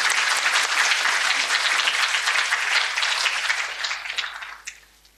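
Audience at a formal G20 development forum applauding Sri Mulyani, former Indonesian finance minister, dense sustained clapping from a large crowd that fades out toward the end.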